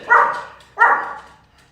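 A dog gives two sharp, close barks about half a second apart, followed by quiet.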